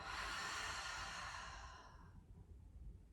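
A long, steady breath blown out through the mouth during a seated breathing exercise, close and breathy, fading away after about two seconds into quiet room noise.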